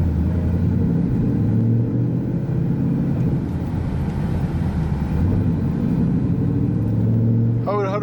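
Ford Mustang engine running while being driven in first gear, a steady low rumble throughout with a brief higher tone near the end.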